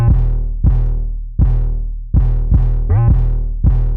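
Heavy 808 sub-bass hits layered with a shells bass line pulse in a slow beat, one note sliding upward midway, loud and close with no talking.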